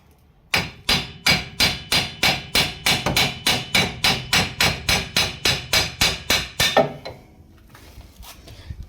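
Steady, evenly spaced hammer blows, about twenty in a row, ring out close and loud while a car wheel bearing on a Ford Figo is knocked out, then they stop, leaving quiet workshop background.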